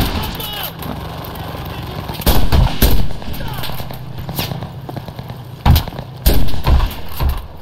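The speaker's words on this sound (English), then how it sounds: "We're just gonna ignore that artillery fire." Artillery and gunfire in the video game Enlisted break out as several loud, sharp bursts and booms against a constant battlefield din, with heavy impacts clustered near the middle and end.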